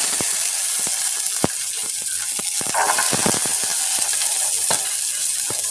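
Whole peeled shallots frying in sesame oil for sambar give a steady, close sizzle of bubbling oil, with sharp pops and crackles breaking through now and then.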